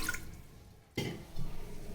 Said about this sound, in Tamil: இதில் கொஞ்சம் தண்ணி விட்டுக்கலாம்.